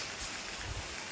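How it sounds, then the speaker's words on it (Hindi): Heavy rain pours steadily, a dense continuous hiss of drops hitting surfaces with no break and no voices, fairly faint overall. "ये देखिए कितनी तेज़ बारिश हो रही है यहाँ पे"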